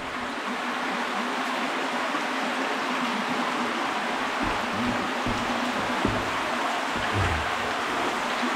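Water leaking from a crack in the wall of Dead Horse Cave, a constant rushing trickle like a small stream, steady and fairly loud with no voices.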